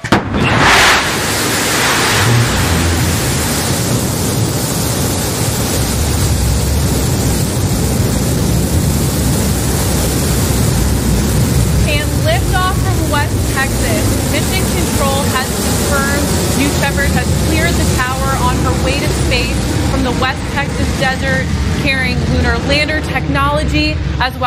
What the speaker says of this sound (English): we're gaining speed as New Shepard lifts off towards space